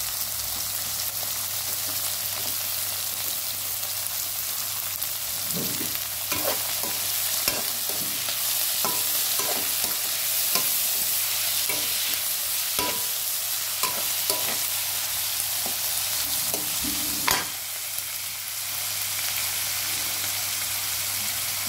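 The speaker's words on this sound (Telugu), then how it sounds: "చూడండి మంచిగా వేగుతున్నాయి." Tomato pieces with coriander frying in a pan, a steady sizzle throughout with repeated sharp scraping stir strokes at irregular intervals, close and clear with no talking.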